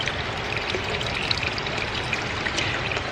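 Cold sulfur spring water trickles and pours in a steady, close, continuous splash with no voices over it.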